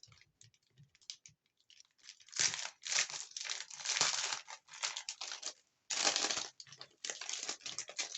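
Plastic cutting plates of a new cutting and embossing machine are pried apart and handled, giving close, crisp crackling and crinkling in irregular bursts with short quiet gaps.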